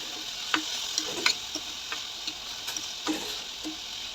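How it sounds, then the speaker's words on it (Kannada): Onion, tomato, beans and carrot fry with salt in a pan for veg fried rice, giving a faint, steady sizzle broken by scattered light scrapes and clicks of stirring, with no voices. "ಈರುಳ್ಳಿ, ಟೊಮೆಟೊ, ಬೀನ್ಸು, ಕ್ಯಾರೆಟನ್ನು ಹಾಕಿ ಎಲ್ಲವನ್ನು ಚೆನ್ನಾಗಿ ಫ್ರೈ ಮಾಡ್ಕೋಬೇಕು."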